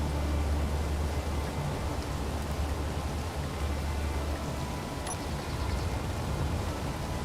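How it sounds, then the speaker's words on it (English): Steady rain falls in the video game Space Engineers, a continuous broadband hiss with low rumble underneath, unbroken for the whole stretch and heard alone without talk. "It's also raining."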